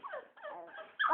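A puppy whimpers close by in a few short, high, wavering whines, with a sharper whine at the end.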